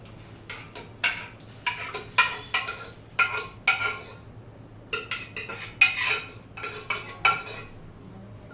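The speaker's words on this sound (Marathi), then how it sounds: "दूध आणि भातला एकजीव करून घेऊया." A spoon repeatedly scrapes and clinks against a metal pot in irregular bursts as mashed cooked rice is stirred into milk for rice kheer, close by, with no talking.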